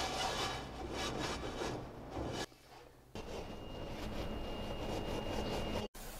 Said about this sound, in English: you need to scrub away all the rusted iron